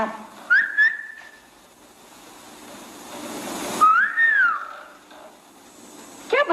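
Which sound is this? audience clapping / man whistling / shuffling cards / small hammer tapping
man whistling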